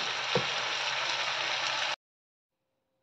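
Food cooks gently in a pan over low heat with a little water, a steady close sizzle that runs for about two seconds before cutting to silence, then briefly returns.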